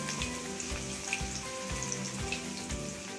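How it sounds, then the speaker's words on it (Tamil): Garlic fries in hot oil in a pan, a steady crackling sizzle with small popping bursts at close range, no talk over it. "அதே எண்ணெயில நம்ம எடுத்து வச்ச பூண்டு பொரிச்சு எடுத்துக்கலாம்"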